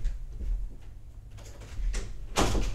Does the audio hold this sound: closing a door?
yes